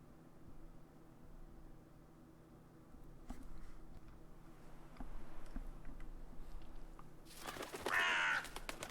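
A crow caws in The Witcher 3, a short, loud burst of harsh calls near the end over a faint, noisy ambient background with scattered ticks.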